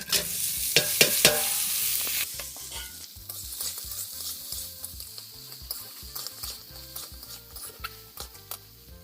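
Country crab and prawns fry in a pan with a lively sizzle while a utensil scrapes and stirs in irregular clattering strokes, close and fairly loud, no voices.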